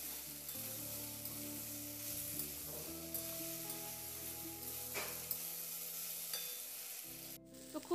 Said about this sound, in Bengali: খুব ভালো করে এটাকে নাড়াচাড়া করে একটু কষিয়ে নিয়ে বেশ ভাজা ভাজা করে নিতে হবে।